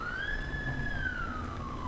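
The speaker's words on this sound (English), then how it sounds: "Ignore the siren, that's not me." An emergency vehicle siren outside rises and falls in a single slow wail, faint and distant beneath steady background noise, with no talking.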